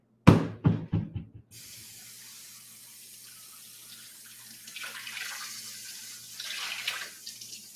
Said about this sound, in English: So let me get another little cup of water.